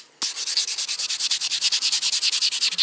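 Acrylic nail overlay with plum glitter being buffed with the buffing side of a 180-240 buffer, a close, quick rhythmic swish of roughly twenty even strokes that starts after a brief pause and carries on steadily with no talk.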